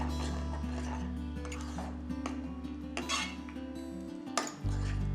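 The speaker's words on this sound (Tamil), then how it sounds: "ஃபைவ் மினிட்ஸ் நம்ம கலந்துகிட்டே இருந்தோங்கன்னா கொஞ்சம் சர்க்கரை கரைஞ்சிடும்" A spoon stirs a sabudana chocolate drink with sugar in a pot, making light, irregular clinks and scrapes against the metal over a steady low hum.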